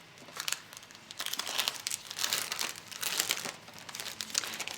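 Handmade specialty papers are handled close up, giving soft, continuous crinkling and rustling with small crisp bursts throughout, faint and without talking.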